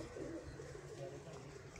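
Low, soft cooing of Sialkoti pigeons, a brief murmuring call against a faint background hum.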